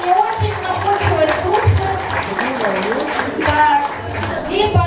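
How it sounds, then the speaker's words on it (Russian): An audience at a school KVN comedy warm-up claps in a rolling, steady burst of applause that runs the whole time, mixed with crowd voices and talk. "давайте поддержим вас бурными аплодисментами"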